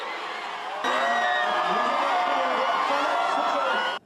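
A dense street crowd on Wolhwa Street in Gangneung, South Korea, roars and cheers continuously, with scattered shouts rising over the steady wall of voices, loud and close throughout.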